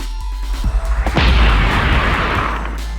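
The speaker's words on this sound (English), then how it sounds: "It's the Fist of Truth. And just keep firing at it." Fist of Truth weapon in the video game Depersonalization fires a rapid burst of popping booms, then swells into a loud, sustained roaring blast with low rumble that slowly fades over a few seconds.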